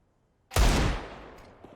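Single gunshot in Counter-Strike, a sudden loud crack out of silence with a booming low body that decays over about a second, with faint clicks trailing after.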